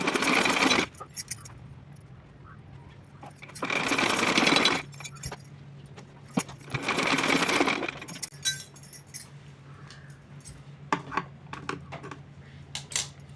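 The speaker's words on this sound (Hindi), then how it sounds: "तो चलिए सिलती हूँ और दिखाऊंगी साथ में आपको" Sewing machine stitching twice-folded cotton cloth for a small garment, running in three loud bursts of a few seconds each, with quieter handling and clinks between them and no talking.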